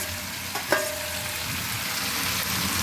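Chopped pointed gourd (parwal) hisses in a hot pan, a steady close sizzle with a brief clatter as the pieces drop in near the start, no voices.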